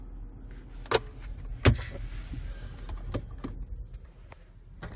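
Sunroof motor of a 2016 BMW 535i running inside the car, a low muffled whir with a couple of soft clunks and clicks, quiet and close, with no talking.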